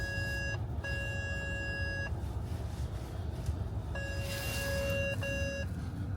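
A car's snow-sensor warning plays as a bright electronic beep tone, repeating in short pulses and then pausing before it sounds again. A steady engine and road hum runs underneath.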